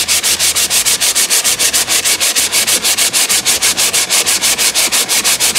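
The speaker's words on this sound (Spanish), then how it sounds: "Voy a tener que lijar bastante para quitar toda esta capa de barniz que lleva." Steady rhythmic rasping of medium or fine grit sandpaper scrubbing back and forth over a varnished wooden box, loud and close, about four strokes per second.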